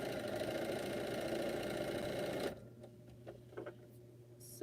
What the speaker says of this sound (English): Have to make sure I sew these correct.